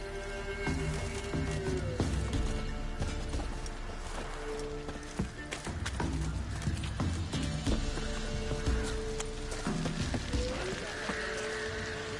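Roach, a horse in The Witcher 3, gallops with a steady rapid clip-clop of hooves under game music and ambience, continuous and fairly close throughout, with no talk.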